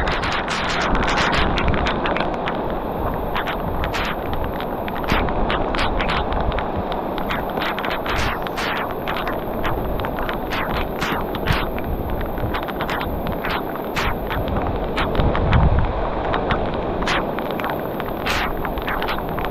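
Strong wind roars and buffets across an open fishing boat at sea during rain, a loud, unbroken rushing with gusty surges and scattered crackling hits, with no voices.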